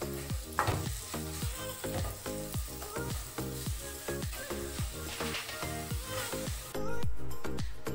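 Pea lentil stuffing being stirred in a pan with ghee and garam masala: continuous oily sizzle with steady, rhythmic scraping strokes of the spoon, close and fairly loud, no talking.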